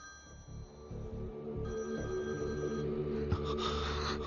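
A telephone rings with a steady electronic ringtone, close and fairly loud, repeating through the moment with no one talking over it.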